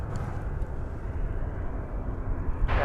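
An American Airlines Airbus A319 from Cedar Rapids lands at an airport, heard as a steady, broad jet roar from some distance that holds level throughout.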